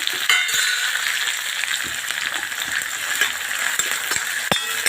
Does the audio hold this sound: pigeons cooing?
no